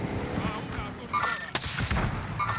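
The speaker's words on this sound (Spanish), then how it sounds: "Disparo de izquierda." Gunfire from a Call of Duty online match crackles amid busy game effects, with a sharp loud shot near the middle and scattered bursts around it, plus faint talk in the background.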